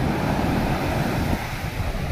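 Rough sea waves surge and crash against an island shore in a continuous close roar, mixed with gusting wind buffeting the microphone.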